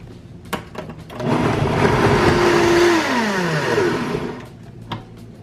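A Vitamix blender whirs steadily for several seconds as it purees a salad dressing with pitted dates, lemon juice and liquid, its motor pitch shifting as the mix thickens before dropping off, close and loud.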